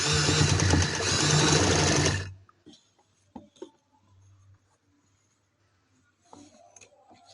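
A sewing machine runs steadily for about two seconds while stitching a neckline on fabric, then stops, leaving quiet handling noises and faint light clicks.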